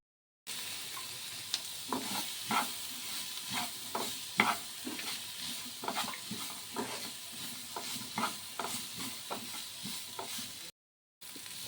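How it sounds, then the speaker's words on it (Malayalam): Onions frying in the oil left from frying chicken, with a steady soft sizzle under repeated scraping stirs of a spoon in the pan, close and fairly quiet, no voices. "ഞാൻ അതാ ചിക്കൻ പൊരിച്ച എണ്ണയിൽ തന്നെ അതാ ഉള്ളി വാട്ടുക കേട്ടോ"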